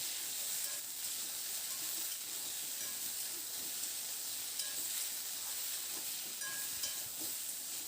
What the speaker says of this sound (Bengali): লবণ আর হলুদটা দিয়ে আরও কয়েক মিনিট সময় ধরে একটু নাড়াচাড়া করে ভেজে নেব।